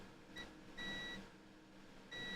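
A thin electronic beep from a tester sounds in short repeated tones, a brief blip then longer steady beeps, over a quiet room hum.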